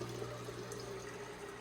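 Water from an aquaponics fish tank running through a pump and filter toward a plant grow bed, a faint, steady, continuous trickle and hum.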